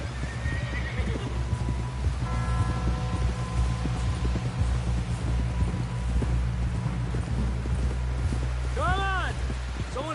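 Horse hooves clip-clop steadily through Red Dead Redemption II as a rider heads back to camp; a horse whinnies, and a low, sustained hum and game music run underneath.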